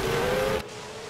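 A racing car engine in a racing video game, a Superleague race at Malaysia's Sepang circuit, drones loudly and steadily, then cuts off abruptly to a quieter engine hum partway through.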